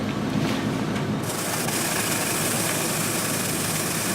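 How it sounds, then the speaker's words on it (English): A 1997 Mercury Grand Marquis idles steadily with a slight skip, giving a low continuous engine rumble close by with no talking. "So I got a skip, and it's kind of annoying."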